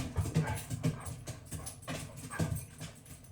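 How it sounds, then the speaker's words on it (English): A dog pants close to the microphone in quick rhythmic breaths with small whimpering catches, faint and alone. "Are you done, doggy?"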